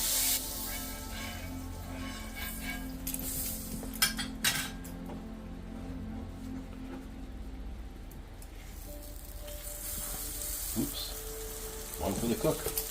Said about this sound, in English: Spread some butter out about the shape of the